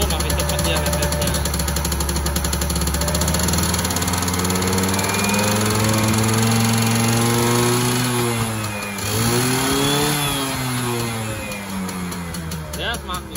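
Yamaha F1ZR two-stroke motorcycle engine, side oil pump fully open, revving loudly and steadily close by, pitch rising and falling through several throttle blips with a harsh buzzing rasp throughout.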